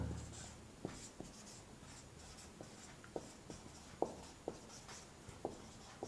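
Chalk or pen writing on a board during a mathematics lecture on permutations, quiet scratchy strokes and sharp taps spaced irregularly, faint and close, with no talking.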